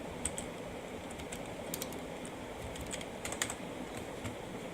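Quick keyboard typing while entering C code for a lab-sheet array exercise: soft, irregular clicks and keystroke taps at close range, continuing with no voices.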